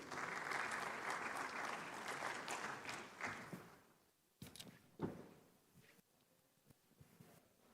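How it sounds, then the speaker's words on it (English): Conference audience at an annual meetings session applauds a moderator, the thick clapping fading out by midway and giving way to scattered rustles, thumps and a few lingering claps in a large hall. "Please give her a warm round of applause"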